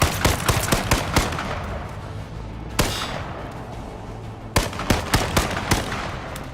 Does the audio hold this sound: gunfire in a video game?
yes